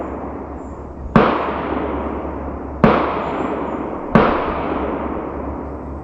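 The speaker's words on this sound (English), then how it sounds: "My neighbor decided that today is a great day to just start shooting." Three loud distant gunshots from a neighbor's property ring out during a hot-day bow hunting session in Pennsylvania woods, each sharp crack followed by a long rolling echo over steady background hum.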